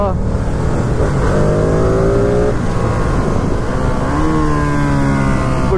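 A Ducati Streetfighter V2 motorcycle engine revs hard during a wheelie, its pitch climbing in two rising surges over a constant loud roar, with the rider's voice audible at moments.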